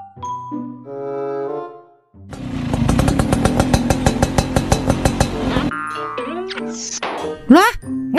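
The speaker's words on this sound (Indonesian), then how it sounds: "Kenapa ini motor ya? Tiba-tiba mati." A motorcycle engine revs loudly and chugs in a rapid pulsing rhythm for a few seconds before stalling, surrounded by bright tones and other noises.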